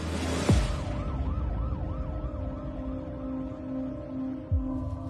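An ambulance siren wails in a repeating rising-and-falling pattern on a UK road, steady and moderately close, with passing traffic whooshing by at the start and near the end.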